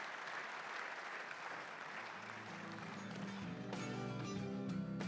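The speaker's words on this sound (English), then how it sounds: "Let's give our panelists a round of applause, please." Audience applause for the panelists at a forum on transforming economies, a steady wash of many clapping hands heard from a distance, building a little toward the end with a few sharper nearby claps.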